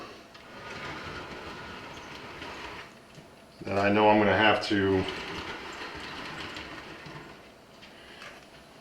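A model railroad RDC passenger train pair runs along the track with a steady rumble and a brief louder hum with clicking rhythm, heard under someone talking.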